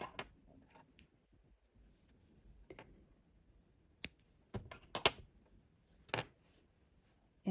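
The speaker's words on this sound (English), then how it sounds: "you're going to trim off the excess yarn" Scissors trimming excess yarn give a few sparse, sharp snips and clicks scattered over quiet room tone, with a cluster of crisp cuts toward the middle and end.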